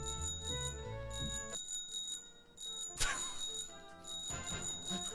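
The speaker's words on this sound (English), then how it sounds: "Why does it keep playing the bell?" A Macromedia software alert bell rings with bright, sustained ringing tones. It sounds repeatedly over a few seconds, with a sharper strike near the middle.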